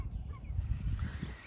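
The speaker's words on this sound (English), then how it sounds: "And even our little geese and ducks have made their way out." Geese honk and gabble nearby in short, overlapping calls, low and throaty, against a muffled background.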